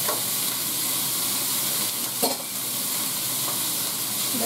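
Pork chops frying in butter in a hot pan give off a steady, close sizzle that holds level throughout, with a brief louder crackle midway and no talking.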